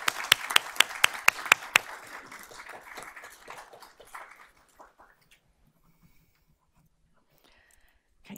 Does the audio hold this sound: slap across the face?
no